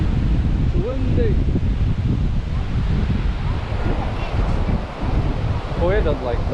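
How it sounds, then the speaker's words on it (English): Seaside wind buffets the microphone during a bike ride, a loud, continuous roaring rumble with surf-like swells, while voices talk over it. "Windy."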